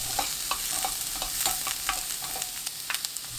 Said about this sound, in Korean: 양파 넣고 30초 볶아주세요.